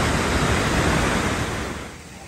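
A loud, steady rush of falling water at a Vancouver Island waterfall, a dense continuous roar that eases off slightly near the end.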